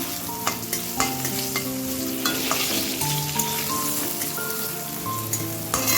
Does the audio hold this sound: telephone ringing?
no